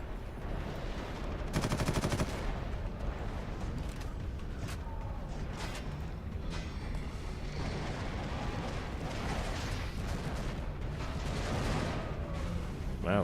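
Warhammer 40,000: Eternal Crusade battle noise, continuous roaring gunfire and explosions in a dense, loud wash with a harsher rattling burst near the start and scattered sharp shots throughout.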